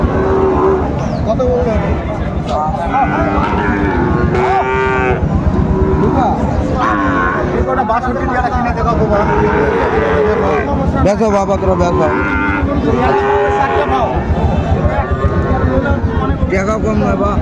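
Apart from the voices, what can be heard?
Sahiwal breed bull calves mooing at a cattle market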